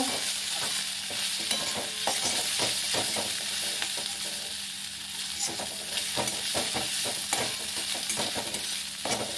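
Spice paste with turmeric and Kashmiri chili powder fries in a pan for a Bengali muri ghonto, sizzling loudly and continuously as a spatula scrapes and stirs it in quick repeated strokes.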